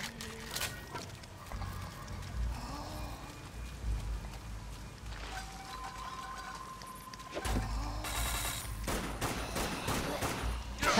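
Rapid rifle gunfire from the zombie shooter game Dead Nation, fairly quiet bursts of repeated shots mixed with game effects, continuing across the stretch.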